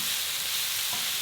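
Salmon and garlic in a hot pan give off a steady, bright hiss as they are tossed, heard up close with no talking.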